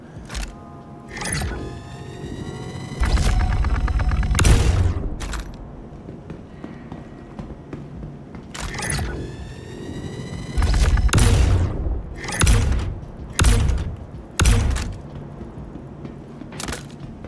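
The Scourge railgun in Star Citizen fires repeatedly at a Terrapin ship: sharp, loud cracking shots with booming low ends, spaced irregularly and sometimes in quick pairs, each followed by a short rumbling decay.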